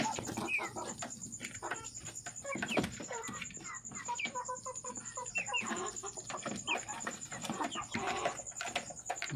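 Tiger breed hens cluck and murmur close by in a steady, overlapping stream of short calls, with a faint high electrical whine in the background and no speech.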